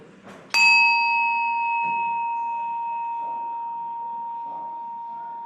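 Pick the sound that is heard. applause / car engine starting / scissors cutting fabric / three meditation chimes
three meditation chimes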